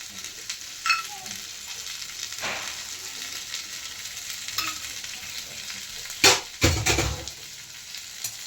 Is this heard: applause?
no